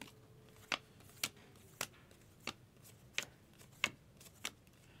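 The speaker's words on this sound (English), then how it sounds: "we're opening baseball cards" Baseball trading cards from a 2023 Topps Update Series jumbo box are handled and flicked one after another, with seven sharp, quiet snaps spaced at a steady, unhurried rhythm in a hushed room.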